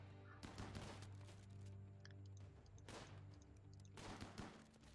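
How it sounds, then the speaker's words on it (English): Shotgun gunfire in the RimWorld video game, a few faint crackling volleys of shots spaced a second or two apart over a low steady game background hum. "It's a shotgun."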